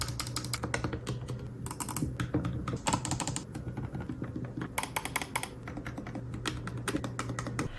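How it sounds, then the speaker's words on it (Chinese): Face buttons on a Razer Wolverine V2 Pro PS5 controller with microswitches clicking rapidly and crisply, close up, in quick irregular runs of sharp clicks over a faint steady hum, with no talking. "手柄上的按键按下去很清脆，感觉回弹干脆爽快"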